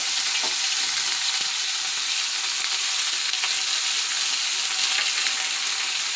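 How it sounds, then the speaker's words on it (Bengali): Vegetables with onion and dried fish fry in a pan, giving a steady, dense sizzle with a few soft stirring scrapes and no talking. "দিয়ে একটু ভালো করে ভেজে নেব"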